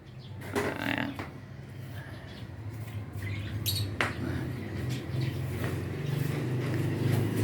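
Caged birds squawk and chirp in bursts near a welded cage being repositioned, sharp calls cutting over a steady low hum and background noise; no talk.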